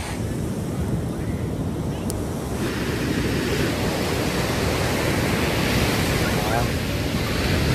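Sea waves surge and wash in continuously at Gopalpur beach in Odisha, a steady broadband roar with constant wind noise over the microphone throughout.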